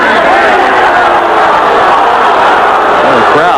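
A college baseball crowd in a stadium reacts to a pitch called outside with a loud, continuous wash of voices. Shouts and murmurs swell together, distant and dense, with no single voice standing out.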